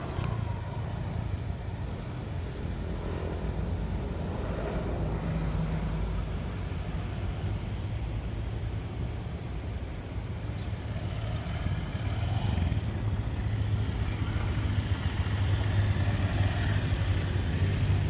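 A 2017 Honda Vario 125 scooter rides along with a steady, broadband engine and road rumble that grows slightly louder toward the end, heard continuously without talk.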